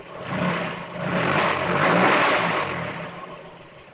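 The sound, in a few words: engine starting and running, sound effect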